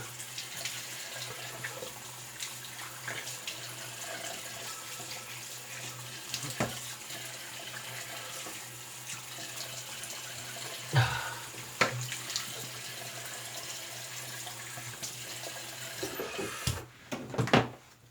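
Tap water runs steadily into a bathroom sink while someone rinses off after a beard shave, a continuous splashing wash with a few louder splashes and clatters near the end.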